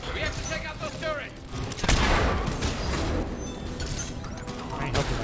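Sustained gunfire at Cerberus turrets in the video game Mass Effect 3, dense rapid shots and booms rolling continuously, with in-game voices talking over the battle.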